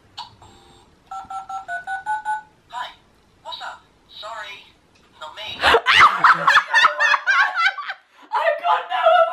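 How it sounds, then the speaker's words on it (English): Phone keypad tones from speed dialing, a quick series of short beeps near the start, followed by laughter and lively chatter from several people. "How long does it take for you to speed dial?"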